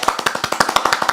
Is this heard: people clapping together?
yes